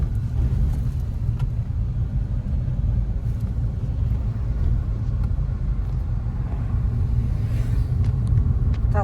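A car accelerates along a road on a driving exam route near Sachkhere, Georgia, its engine and tyre rumble loud and steady from inside the cabin throughout, with no voices.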